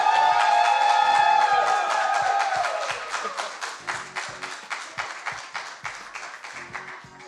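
An audience applauds an artist at the close of an evening music show, a dense burst of clapping that thins out into a few slow, separate claps over several seconds, with no clear cheering above it.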